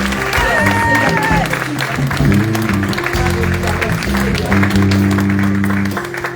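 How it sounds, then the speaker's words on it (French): A church congregation claps for the choir at an Easter service, a dense sustained applause mixed with crowd noise and a lingering musical tone underneath, continuing for several seconds before easing slightly at the end. "Un bon applaudissement pour l'équipe de la chorale."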